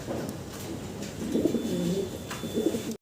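Fancy pigeons coo close by, with a few soft rolling coos in quick succession over a quiet background.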